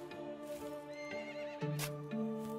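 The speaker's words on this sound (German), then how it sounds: "Alter, sei doch mal ruhig, Pferdchen." A horse in the medieval farming game Medieval Dynasty lets out a long, shaky whinny with a sharp snort partway through, close and clear over faint hoof clip-clop.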